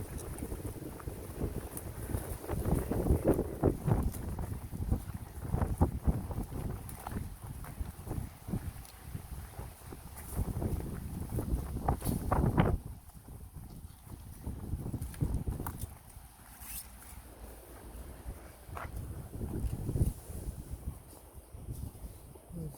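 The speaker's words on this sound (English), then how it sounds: "The wind, the wind, the wind." Wind blowing across the microphone on a sunny but windy day at Silverburn Park in Fife, Scotland: loud continuous buffeting rumble in gusts, easing briefly midway before rising again.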